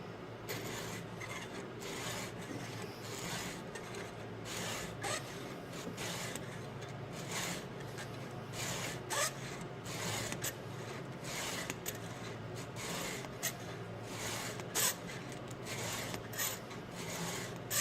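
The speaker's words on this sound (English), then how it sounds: "Let the filing begin." A Husqvarna chainsaw chain is sharpened with a hand file: a rhythmic series of quick, close rasping strokes repeats steadily over a faint background hum.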